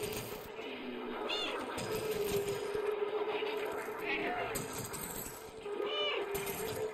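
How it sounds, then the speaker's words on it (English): A cat meowing in the Stray video game, several short, faint meows spaced apart over quiet ambient game sound. "Okay, the meows trigger it. My meow is powerful."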